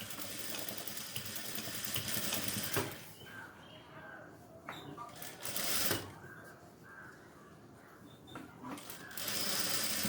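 Sewing machine stitching shorts in a tailoring class, bursts of rapid mechanical whirring that stop and restart, with quieter pauses between runs.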